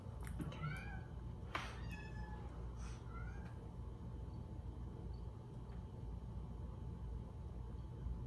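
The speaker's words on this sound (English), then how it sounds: "You could hear our cat." A pet cat meows outside, wanting to be let in: four or five short, faint meows in the first three seconds, heard from a distance over a constant low rumble.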